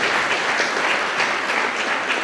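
Steady applause from a crowd fills the whole stretch, dense and even, with no voices standing out above the clapping.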